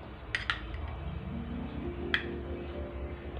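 A spoon scrapes and clinks against a bowl while mango pulp is added for amrakhand, mango shrikhand, with a few sharp metallic taps over a quiet low background.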